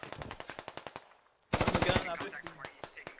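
Machine gun fire in a military video game: two rapid bursts of close, loud shots, a quieter string first, a pause, then a heavier burst followed by scattered shots.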